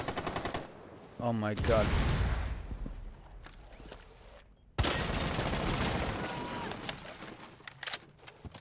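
Video game gunfire erupts in loud, rapid bursts that start and stop abruptly, with a clear gap before a second sustained volley, while a player exclaims over the action.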